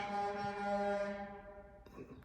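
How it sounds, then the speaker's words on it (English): A car horn sounds from outside as one long, sustained honk, steady and fairly loud, then cuts off near the end with a brief noisy clatter. "someone honking their horn"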